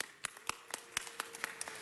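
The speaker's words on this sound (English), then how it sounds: "Let's give them a round of applause." Sparse, uneven hand clapping from a small group at a city council meeting, a handful of separate claps scattered over a couple of seconds, quiet and somewhat distant rather than a full ovation.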